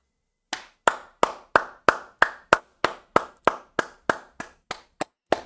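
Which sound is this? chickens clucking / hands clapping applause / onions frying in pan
hands clapping applause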